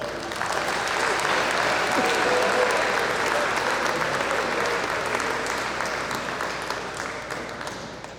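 A room full of guests at a high school football banquet applauds the players, a thick, even wash of clapping that swells early, then gradually fades over eight seconds.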